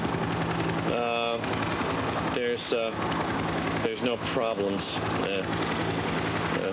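Helicopter rotor and engine drone running steadily throughout a traffic-report broadcast, a continuous loud hum with someone talking over it.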